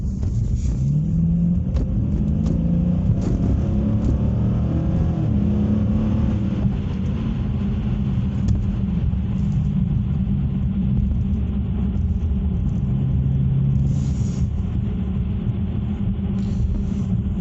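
A street muscle car's engine rumbles steadily and then climbs in pitch as it accelerates to get ahead of a Mack truck, heard close and loud from inside the car for the whole stretch.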